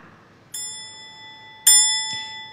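A timer bell in a coding presentation contest rings twice to mark three minutes, each clear metallic ding ringing out and fading, with a softer tap between them.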